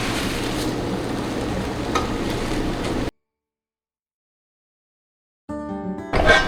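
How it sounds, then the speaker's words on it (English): Tex Mex hash browns sizzle in a pan as a spatula flips them in sections, giving close, steady frying crackle that cuts out briefly and then returns with scraping. "I'm going to do my best to get my spatula underneath each section and flip it as a whole"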